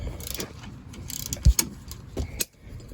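A wrench counterholds a spinning bolt on a 2020 Toyota Tacoma's rear shock, giving close metallic ratcheting clicks and clinks with one sharp knock in the middle, no speech.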